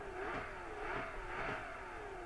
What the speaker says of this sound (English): listen to how loud is the engine inside this car.